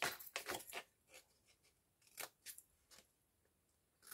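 Scissors snip the corners of paper for a scrapbook album, a few quick sharp cuts in small clusters separated by near silence, close and fairly quiet.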